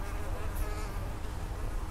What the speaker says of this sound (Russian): Ой, муха села.